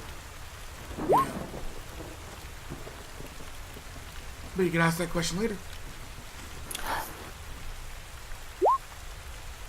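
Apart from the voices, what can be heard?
rain and thunder in a rainforest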